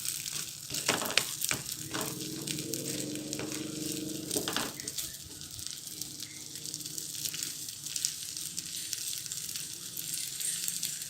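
A mixture of resin torch and roasted rice, cooked as rat bait, bubbles and sizzles in a pan with a steady close hiss throughout, plus a few sharp clicks and scrapes early on.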